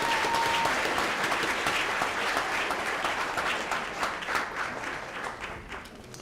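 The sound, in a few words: audience applause at retirement dinner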